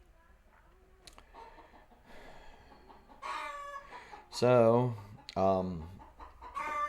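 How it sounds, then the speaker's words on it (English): A pet hen, agitated outdoors and wanting to lay an egg, gives a few loud, excited clucks and squawks in short bursts. Quiet talk and background noise come before them. "my chicken's going crazy outside"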